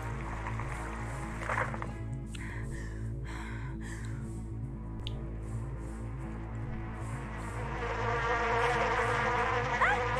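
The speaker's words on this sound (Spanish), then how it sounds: "¡Zancudos!" Mosquitoes whine in a close, continuous high-pitched buzz that persists throughout, over a steady low drone.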